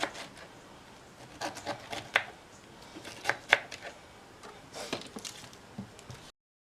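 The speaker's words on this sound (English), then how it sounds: "next you just chop your pineapple into pieces" A knife chops pineapple into pieces on a board, producing a handful of scattered, faint thuds and scraping cuts at irregular intervals, close but quiet, ending abruptly.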